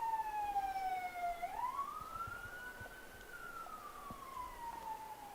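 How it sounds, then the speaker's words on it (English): A siren wails through a netball match between Guyana and Barbados at an international series. One long rising and falling tone sounds loud and steady over faint crowd noise. "And as the sirens go"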